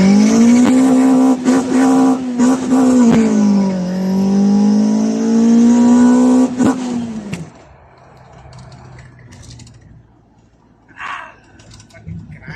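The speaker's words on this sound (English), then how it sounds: "It's grinding these gears." A rally-style car with a gearbox that won't take third gear and has a cooling problem revs hard, its loud engine note climbing and dipping for about seven seconds before cutting off into quieter background sounds.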